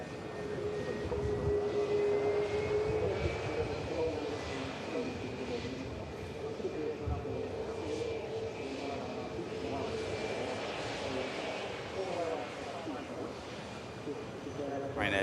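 A Ryanair airliner arriving in from Derry at Manchester Airport, a broad steady jet roar that holds loud and continuous throughout, with voices talking over it.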